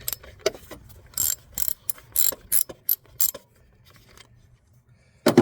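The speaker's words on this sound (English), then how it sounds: "Grab your handy dandy socket wrench, clip it in, break it loose." A socket wrench ratcheting on a 13 bolt during alternator removal, sharp bursts of clicking pawl strokes in uneven groups, close and loud with quiet gaps between.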